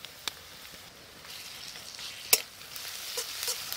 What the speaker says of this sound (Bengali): রসুন আর পেঁয়াজটা হালকা করে ভেজে নেব।